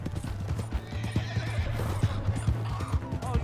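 A horse in Red Dead Redemption 2 whinnies loudly while rhythmic hoofbeats clip-clop along underneath, the neighing sustained and close throughout.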